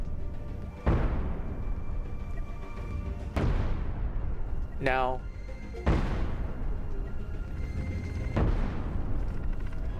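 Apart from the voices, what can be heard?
ship cannons firing in the video game Cosmoteer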